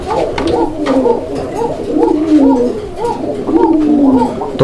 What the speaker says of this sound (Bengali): মানে ভরপুর ডাকের কবুতর